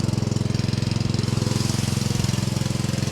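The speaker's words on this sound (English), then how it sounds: "I'm going to show you what the spray ball looks like." Spray ball rinse nozzle working inside a chemical jug on a chemical inductor, fed with water from a pump engine run below full throttle: a steady, loud, rapidly pulsing mechanical drone with hissing spray, continuous throughout with no talk.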